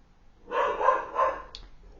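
A dog barks nearby, a quick run of two or three loud woofs with a short trailing yip, in an otherwise quiet indoor room.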